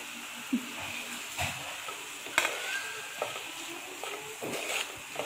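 Tomatoes and green chillies tumble into a hot pan of sizzling ginger-garlic paste, a steady soft fry with scattered sharp splashes and stirring clatters, fairly faint and without talk.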